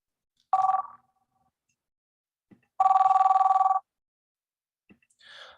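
Two electronic telephone rings for an incoming caller at a committee meeting, a short ring and then a longer warbling one, clear and close against silence, with a brief faint sound afterward.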